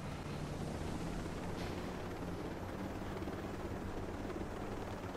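Helicopter in the video game Ghost Recon Breakpoint, a continuous loud rotor and engine roar that stays steady throughout without voices.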